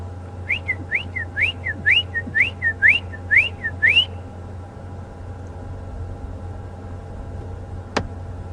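A robin on a morning safari drive at Djuma Game Reserve calling a run of about eight quick rising whistled notes, clear and fairly near over a low engine rumble, followed by silence and one sharp click.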